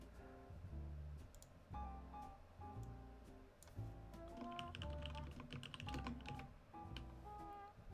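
Keystrokes on a computer keyboard typing a short folder name, a steady run of close clicks and taps over a low background hum with musical tones, no talking.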